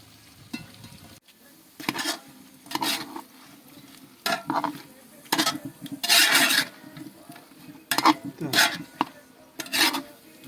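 Vegetables braise in a cauldron for soup, heard as repeated scraping and stirring strokes in short bursts over a low, steady simmering background.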